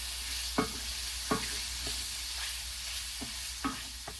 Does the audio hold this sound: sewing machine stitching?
no